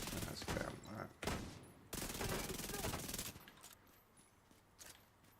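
Dense gunfire from a shooter in The Division 2, loud bursts packed into the opening seconds, then a sustained stretch of fire that eases into sparser, quieter shots toward the end.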